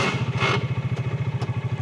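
A 2025 Bighorn 450 Pro Max side-by-side UTV engine idling with a steady low pulsing throb as it is put in gear, close and loud, with a brief whoosh and a couple of faint clicks.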